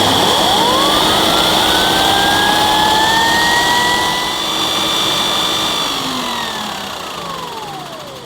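A Neptune by Zelmer Aqua Filter water-filtration vacuum cleaner runs loud and steady, its motor whine rising as it spins up, holding, then winding down and fading near the end.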